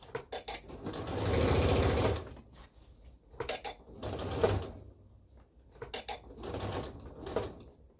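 Sewing machine running a long gathering stitch on fabric, rapid needle chatter in several bursts of varying length with short stops between, close up.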